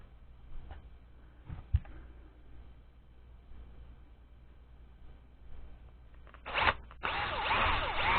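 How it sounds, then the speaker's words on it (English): A power drill whirs loudly near the end, boring a quarter-inch hole into a handmade fishing lure, after a few quiet handling clicks and knocks, with one brief burst before a longer steady grinding run. "now I'm going to drill it out a little bit bigger, about 1/4 inch"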